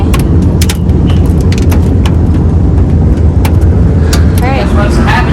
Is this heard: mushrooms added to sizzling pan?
no